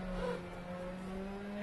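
A rally car engine in the Dirt Rally video game drones steadily and faintly on a snowy stage, a continuous low hum without clear revving.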